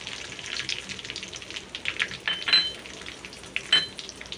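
Black pepper and cumin crackle and sizzle as they temper in hot oil with asafoetida, a dense spitting hiss broken by a few sharper pops, close and fairly loud with no talking.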